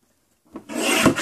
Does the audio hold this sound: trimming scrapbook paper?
yes